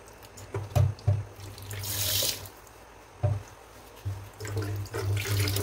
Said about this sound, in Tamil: இதை வந்து நார்மல் ரன்னிங் வாட்டரில் வந்து இன்னும் கொஞ்சம் அலசிக்கணும்